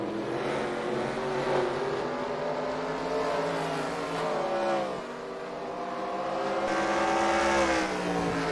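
Race cars on a dirt oval at Devils Bowl in Texas, engines droning and revving together as the pack circles, the pitch rising and falling as cars pass, loud and continuous.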